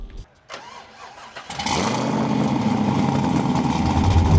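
A V8 engine swapped into a Rocket Bunny Nissan S13 cranks over after a few clicks and catches, rising into a loud, steady, rumbling idle that fills the rest of the moment, with no voices.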